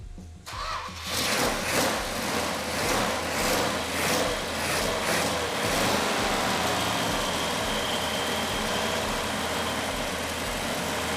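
A 1970 Plymouth GTX engine cranks and catches, then settles into a loud, steady idle with a slightly uneven rumble.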